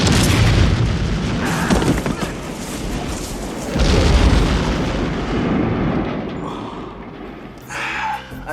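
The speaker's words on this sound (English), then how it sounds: "Cue explosion in 3," A movie explosion from the 1989 film Tango & Cash, heavy booming blasts with deep rumbling that rolls on for several seconds, loud and close, then fades into lighter debris sounds.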